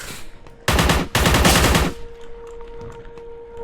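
Automatic weapon fire in the retro shooter Forgive Me Father: two loud, rapid bursts of rattling shots, each about a second long, followed by a faint lingering tone.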